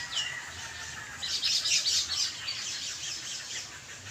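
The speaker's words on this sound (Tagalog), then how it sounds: "Makinig ka lang sa huni ng mga ibon." Small birds chirp and tweet in quick bright bursts over a soft, steady outdoor hiss, moderately distant.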